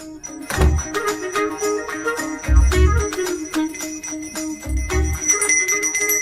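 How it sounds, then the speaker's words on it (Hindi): A bell rings by itself in a scene from a Hindi-dubbed action drama, with several rounds of bright ringing strokes and lingering metallic tails, broken by low thuds, and no voices. "मुझे जल्दी आओ बोल के यहाँ पर घंटी बजा रहे हो।"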